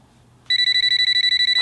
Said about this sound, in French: un autre, téléphone.